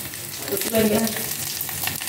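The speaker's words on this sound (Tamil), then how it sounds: "வெண்டைக்காய், கொத்தரங்காயும் வதங்கட்டும்" Okra and cluster beans sauté in a pan with a brief, close sizzle and a bit of stirring noise, loudest at the start and then holding steady.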